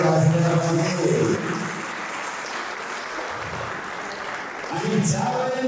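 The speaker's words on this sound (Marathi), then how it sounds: "टाळ्या शेवटपर्यंत वाजल्या पाहिजे." Applause from an audience at a 50th birthday celebration, a sustained wash of clapping through the middle, with a voice speaking over it at the start and end.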